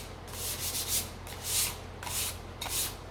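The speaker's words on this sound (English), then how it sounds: "I'm just gonna give this a light sand." A sanding sponge rubs lightly over a wooden hanging sign in steady back-and-forth strokes, a soft close scratching swish repeated several times with no talk.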